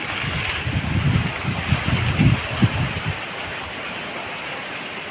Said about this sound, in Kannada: ಗಾಳಿ ಜೋರು ಬೀಸ್ತಾ ಇರುತ್ತೆ